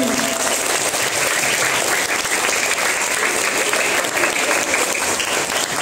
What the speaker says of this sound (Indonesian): Tepuk tangan untuk SD Gajah 1.